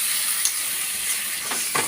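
Meat curry simmering in a pot while being stirred, with a steady bright sizzle and hiss, occasional scraping strokes, and no talking.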